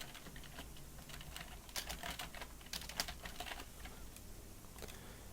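Keys on a computer keyboard are tapped in quick, uneven runs of clicks while a directory entry value is edited. The typing is close, quiet and steady with no speech.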